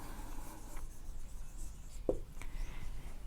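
Pen or chalk writing out a sentence, faint scratchy strokes with short taps, quiet and close over low room noise.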